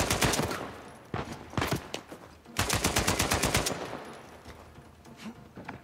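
Gunfire in the video game Uncharted 4, with loud rapid bursts of automatic shots in several rattling volleys and brief pauses between them, then fading into quieter background noise.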